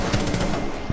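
Rapid automatic gunfire in a video game, a loud dense burst of shots filling the whole second with a heavier report near the end.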